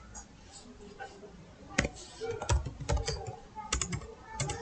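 Fingers type on a computer keyboard while entering HTML for a registration form, a quiet, irregular patter of close keystroke clicks that speeds up into quicker bursts toward the end.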